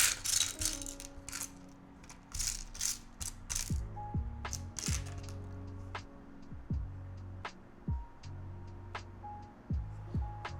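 Bulk LEGO pieces being rummaged through for pins, a loose clattering and rattling of small plastic parts with irregular bursts, close by and with no talking.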